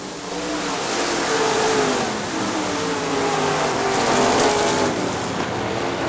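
Late model stock cars race through the turns at Crystal Motor Speedway, a steady loud engine roar sustained throughout with no clear pass-by peaks, heard from a distance across the track.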